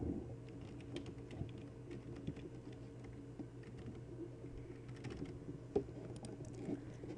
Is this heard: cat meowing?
no